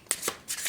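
Tarot cards are shuffled by hand in a few quick riffling bursts, close and crisp, with no talking.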